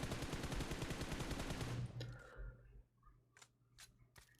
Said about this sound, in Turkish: Ben şimdi jiroskopla sprey atıyorum arkadaşlar bakın. Bunlar jiroskopla atılan spreyler.